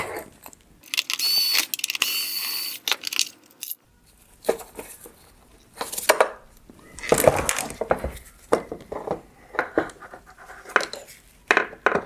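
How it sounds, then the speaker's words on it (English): Two T10 Torx screws being removed from a bracket inside a 2025-2026 Rivian R1T/R1S headlight housing, heard as scattered close clicks, scrapes and small metallic taps with pauses between them. "I'm going to remove the two T10 Torx screws holding on this bracket"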